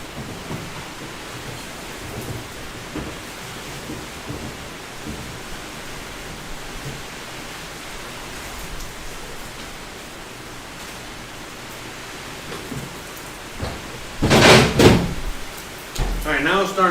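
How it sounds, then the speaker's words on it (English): Rain begins falling outdoors as a soft, steady hiss of drops on surfaces, heard from inside a home kitchen. It continues faintly in the background, with a sudden louder knock or rumble near the end and some indistinct indoor activity. "now it's starting to rain up there"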